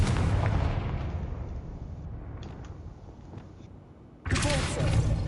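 Confringo spell explosion in the Hogwarts Legacy video game, a loud broad blast that decays into a rumbling tail, then a second sharp burst near the end.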